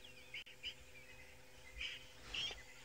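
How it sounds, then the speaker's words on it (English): An African fish eagle calls in the open bush, giving a few faint, distant yelping cries spaced apart over a quiet background. "This is beautiful. The African fish eagle."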